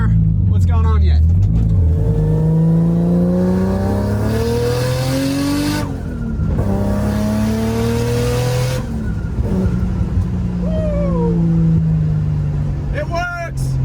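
A loud, close car engine in a Nissan 240SX S13 hatchback with a 1JZ swap revs and accelerates, its pitch climbing repeatedly as it shifts through gears, with a brief tire screech near the end.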